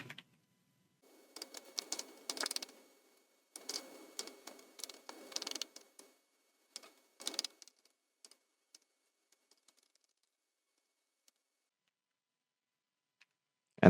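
A formula is typed on a computer keyboard in short bursts of quick, close key clicks with pauses between them. The clicks thin to a few isolated taps before silence.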